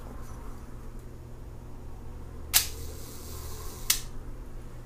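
A Hasselblad camera with a Carl Zeiss Sonnar C 150mm f/4 lens fires its leaf shutter at a one-second setting: a sharp opening click, then a second closing click about 1.3 seconds later, over faint room hiss.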